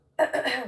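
A single rough throat clearing, close and fairly loud, following a brief moment of silence.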